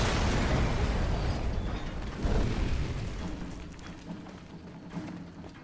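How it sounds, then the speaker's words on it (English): Explosion in a video game: a heavy, roaring rumble with crackling debris that holds for a couple of seconds, swells once more, then slowly dies away. No one talks. "Explosion, right?"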